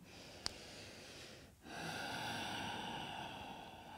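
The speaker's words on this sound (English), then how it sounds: "That snoring exhale, so you might hear it in the microphone as well." A breathy, snoring ujjayi exhale during a vinyasa yoga class, a soft sharp intake followed by a long hissing rasp of breath that lingers at low volume.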